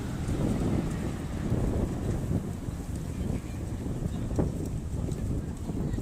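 Steady low-frequency wind buffeting a microphone outdoors in Yokohama, Japan, a continuous rumbling roar with no pauses across the whole stretch.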